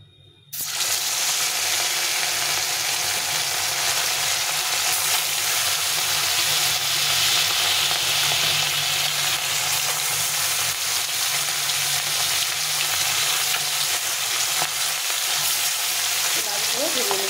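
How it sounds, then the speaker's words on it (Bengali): Fish frying in thin Fortune white oil, a loud, continuous close sizzle that starts abruptly after a brief quiet moment and holds steady without any talk. "এই তেলে মাছটা ভেজে নেবো"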